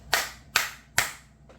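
Three crisp single hand claps evenly spaced about half a second apart, close and distinct in a quiet room, followed by a fainter fourth clap.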